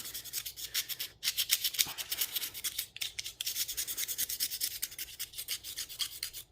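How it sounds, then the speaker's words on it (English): A razor blade scrapes carbon deposits off an engine valve in quick, rhythmic rasping strokes, close and steady with a few brief pauses between passes. "So using a razor blade just to kind of scrape it like this."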